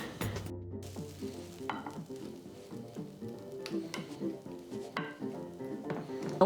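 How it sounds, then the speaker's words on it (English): Mushrooms fry in oil in a frying pan over very high heat, a faint sizzle under repeated stirring scrapes and light pan clatter, with a voice talking softly. "adding a little bit more oil and pop our mushrooms into our frying pan"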